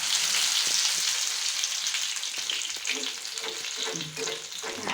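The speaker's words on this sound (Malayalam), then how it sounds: "ഇനി ഇതുപോലെ ഈ 4 പീസും പൊരിച്ചെടുക്കട്ടെ." Pieces of bread fry in hot oil, making a dense, bright, crackling sizzle that is loud at first and eases slightly, with a few soft knocks and stirring sounds near the end, no speech.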